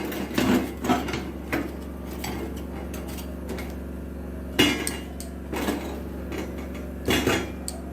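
Chitoi pitha rice cakes are prised from an iron mould, giving several sharp metallic clinks and scrapes at uneven intervals over a steady low hum, close by and with no talk.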